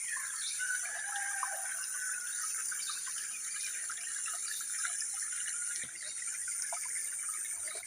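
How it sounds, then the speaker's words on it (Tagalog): A small mountain stream near Barangay Bagamilon in Camarines Sur runs with a steady, even rush of water, with a high insect-like trill layered over it and no voices. "makikita na natin tong mga maliliit na mga running water na galing dyan sa bundok"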